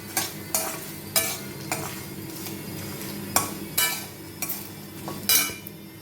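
A spoon stirs raw banana fry with chili powder in a pan, giving repeated scraping clinks against the metal at an uneven rhythm over a low steady sizzle, close and clear with no talking.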